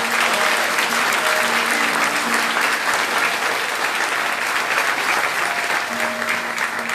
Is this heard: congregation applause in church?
yes